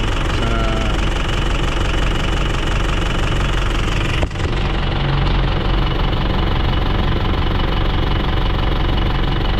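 A 2017 Isuzu Crosswind Sportivo X engine idles steadily for the whole stretch, a dense, loud, continuous mechanical rumble with a knocking texture and one brief dip partway through, with no talking.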